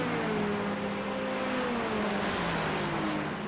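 Race cars run at Road Atlanta, a BMW among them, their engines holding a steady droning whine that slowly drops in pitch as the cars pull away. The sound is loud and continuous, with no voices.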